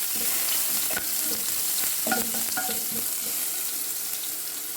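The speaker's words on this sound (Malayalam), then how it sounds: "ഒരു 2 വെളുത്തുള്ളി ചതച്ചത് ഇട്ട് കൊടുക്കാം. അതൊന്ന് ഇളക്കാം." Crushed garlic frying in hot oil with popped mustard seeds, a steady close sizzle with scattered crackles and the scrape of a spoon stirring through the pan.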